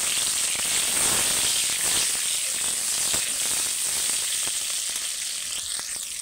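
Chopped tomato fries in hot oil with a loud, dense, continuous crackling sizzle up close, a few faint stirring ticks, and the hiss easing slightly toward the end.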